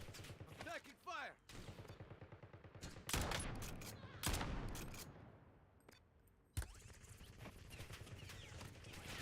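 Gunfire in the Warzone video game: repeated sharp bursts and volleys of automatic shots, some close and loud, others trailing off, with a voice speaking between bursts.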